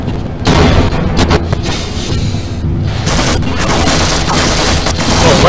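Gunfire in Half-Life at a radioactive army outpost: loud, sustained volleys of shots and booming blasts crackle almost without pause, close and dense throughout, with no talk.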